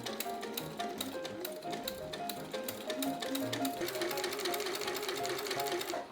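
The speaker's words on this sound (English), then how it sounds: "Afterwards, I sewed the lace onto the fabric." A domestic sewing machine stitches lace onto blouse fabric for an Edwardian-style garment, giving a steady, fast mechanical whir with rapid needle ticking that runs continuously at moderate, close range.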